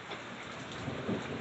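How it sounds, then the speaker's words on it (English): Rain falls during a thunderstorm in Arizona, a soft, steady patter and hiss with a faint low rumble, quiet and brief with no voices. "It's raining and thundering."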